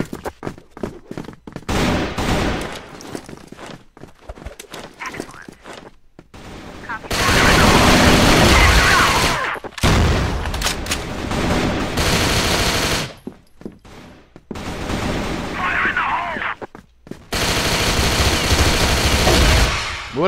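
Bursts of automatic fire from a PLZZ1 weapon in a modded shooter game, long loud volleys alternating with short gaps and rapid single shots over about twenty seconds.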